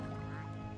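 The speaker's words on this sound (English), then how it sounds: "Just makes a regular quack." A single duck quack from a video game, short and fairly quiet, heard on its own without talk.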